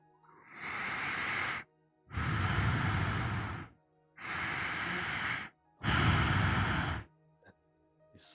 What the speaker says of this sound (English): Is one of you breathing really hard?